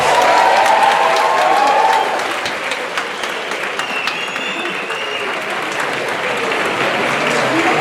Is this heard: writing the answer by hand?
no